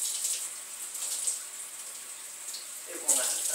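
Water pours steadily onto a primitive bow being de-greased with a lye solution, giving a continuous soft splashing trickle with a slightly stronger splash near the end.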